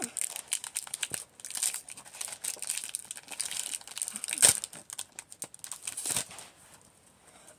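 A trading card pack of brainrot character cards is torn open, its thin wrapper crinkling and crackling in quick, faint bursts close to the mic, with a couple of sharper rips.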